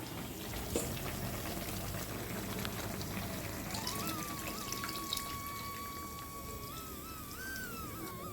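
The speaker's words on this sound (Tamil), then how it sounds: "இப்போ புளி தண்ணி விட்டாச்சு" Tamarind water is poured into a pot of Madurai Meenakshi Amman temple-style sambar rice. The liquid makes a soft, quiet trickling and splashing sound close by, with faint kitchen background noise.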